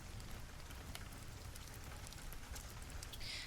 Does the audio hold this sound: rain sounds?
yes